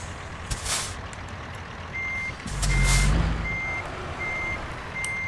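Truck backing up in American Truck Simulator, sending out a regular string of high electronic reversing beeps over a steady engine rumble, with a brief air-brake hiss partway through.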